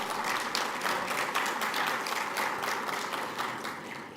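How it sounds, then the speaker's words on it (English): A conference audience at an ARIN livestream event gives a round of applause, a steady dense clatter of many hands clapping at moderate distance, sustained for about four seconds and tapering slightly at the end. "Can we have a round of applause?"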